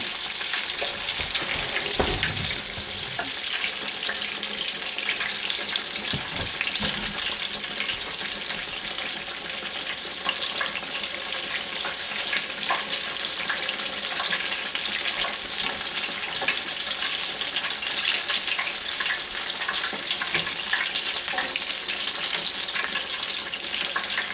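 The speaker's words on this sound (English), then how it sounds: "As with all frying, you just mostly leave it alone." Steady, loud crackling sizzle of fish frying in hot oil, a dense continuous hiss that goes on without pause.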